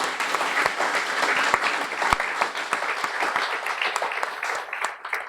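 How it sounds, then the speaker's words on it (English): Graduation ceremony audience gives a continuous, dense burst of applause lasting several seconds, close and loud, with a few scattered voices beneath it before it fades. "let's have a round of applause for Michelle Munier"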